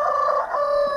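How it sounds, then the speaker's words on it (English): A rooster at a homestead chicken coop gives a short, close, loud crowing call, a sustained tonal cry that dips briefly midway, with chickens nearby. "Here's our chicken coop."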